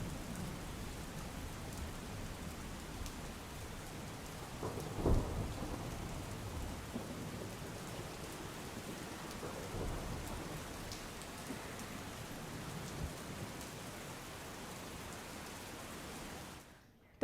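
Heavy rain pours steadily during a monsoon downpour at Prantij in Sabarkantha, a dense continuous hiss with a brief thunder rumble near the start before it cuts off at the end.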